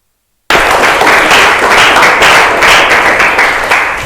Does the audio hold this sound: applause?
yes